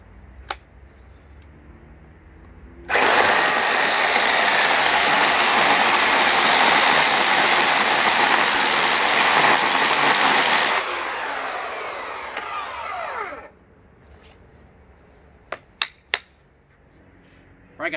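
A chainsaw cuts through wood in one loud, steady roar lasting about ten seconds, then cuts out, leaving a quiet background with a few faint clicks.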